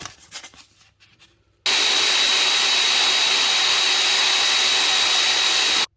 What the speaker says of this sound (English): I'm just going to very carefully pop him in my drill, like so.